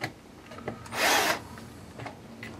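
A power driver whirs briefly once while tightening a screw on an Axial Yeti RC model build, a short buzzing burst amid quiet handling noises.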